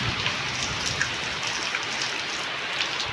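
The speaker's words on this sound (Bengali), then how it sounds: "তুফান আর বৃষ্টি আসছে।" Steady rain pours down during a storm, a dense continuous hiss of drops striking surfaces with faint scattered patters, close and unbroken for the whole stretch with no voices.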